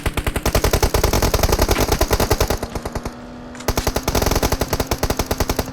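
Rapid automatic gunfire in a shooter video game scrim, loud dense bursts of shots with a brief pause midway before firing resumes, no talking over it.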